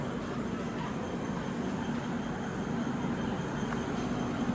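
The Shree Jagannath Express departing platform 4 at Mecheda station in West Bengal, heard as a dense, continuous low rumble and rattle of rolling carriages that holds evenly throughout with no speech.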